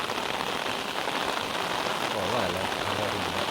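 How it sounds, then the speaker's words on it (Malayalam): Heavy monsoon rain pours steadily close by, a dense unbroken hiss with a voice briefly audible under it. "ഇപ്പതേ മഴ, ഒരു രക്ഷയില്ല."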